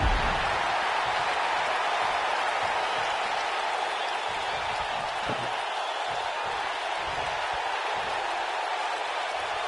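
Wrestling arena crowd at a TLC match roars with sustained cheering and applause, a dense continuous wash of noise.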